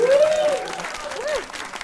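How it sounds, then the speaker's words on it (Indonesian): Applause from a small audience in a podcast studio, loud and steady at first and then tapering, heard alongside a speaking voice. "Tepuk tangan dong."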